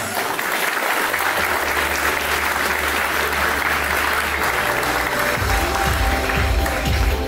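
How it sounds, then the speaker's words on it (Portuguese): Sustained applause from an audience as a guest is welcomed onto a stage at a political talk event in Brazil, a dense steady clatter of clapping filling the whole stretch without pause. "Uma salva de palmas."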